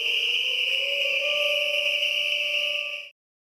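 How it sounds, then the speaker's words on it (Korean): A single shrill whistle blast from a protester at a rally, sustained and piercing for about three seconds before cutting off sharply, with no talking. "집회 참가자들은 아랑곳 않고 호루라기를 불거나 사이렌을 울리기도 했습니다"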